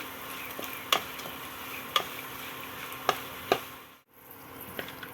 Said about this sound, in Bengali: আমি প্রথমে বড়ি কিছুটা ভেজে নেব